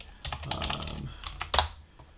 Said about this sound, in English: Sorry for my extremely loud keyboard, by the way.